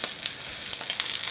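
Shishito peppers blister and sizzle in a frying pan, a close, steady hiss with small crackling pops and no talk.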